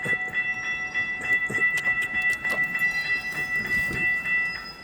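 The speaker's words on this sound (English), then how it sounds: "the train's coming, so here we go" A loaded rock freight train rolls past beside a busy road, its steady wheel and railcar rumble filling the scene, with a horn-like tone ringing throughout and passing road traffic mixed in.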